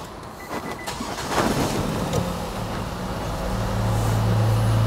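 A 2013 Nissan Serena C26 with an automatic gearbox cranks briefly and catches, then settles into a steady, close engine idle that grows slightly louder and continues to the end.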